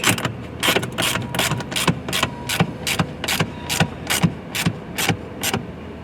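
A ratchet wrench cranks hard on machine-thread bolts while a front plate is fitted to a 2020–2025 Land Rover Defender, giving about a dozen loud, sharp, evenly paced clicks close by with no voices.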